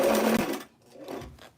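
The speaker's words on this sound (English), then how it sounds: "I don't want to back stitch because this is just a basting stitch that more than likely is going to be ripped out later." A sewing machine runs a basting stitch along a zipper on a vintage 1950s wiggle dress, a loud close burst of motor whir that stops, then two softer short runs.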